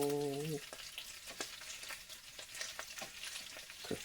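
Food fries quietly in a pan with a soft, steady sizzle and scattered crackling pops, after a short electronic beep at the very start.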